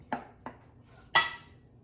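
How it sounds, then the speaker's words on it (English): Two hamburger patties set onto a small skillet: two light metallic taps followed by a louder clattering clank of the pan, close by and isolated in a quiet kitchen. "So I'm gonna put 2 of these on this little skillet."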